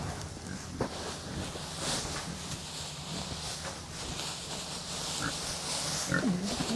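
Pigs on a farm grunt and oink softly amid rustling and shuffling as they huddle together before a winter storm, the animal sounds low and intermittent over a steady background.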